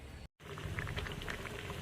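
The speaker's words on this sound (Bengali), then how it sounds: "এই যে এখানে গোটা গোটা আলু সেদ্ধ করতে দিয়েছি খোলার সমেত" Whole unpeeled potatoes boil in a pot of water with a steady bubbling and faint popping, close and constant after a brief cut of silence.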